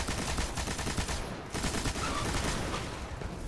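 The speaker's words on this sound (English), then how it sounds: "heavy machine gun." A heavy machine gun in the game Destiny fires in a steady, rapid sustained burst with a brief pause midway, loud and dense throughout.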